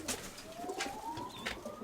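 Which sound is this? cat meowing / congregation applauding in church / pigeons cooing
pigeons cooing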